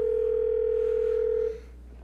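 A single steady telephone line tone on a call placed during a radio show, holding loud and unbroken for about a second and a half before cutting off, leaving faint background hiss.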